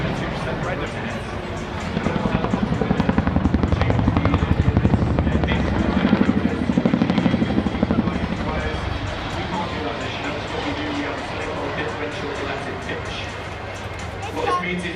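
A twin-rotor Chinook helicopter flying an air show display at the Red Bull Air Race 2015, its rotor chop thumping loud and rhythmic, swelling midway and then easing off, with someone talking over it and crowd noise behind.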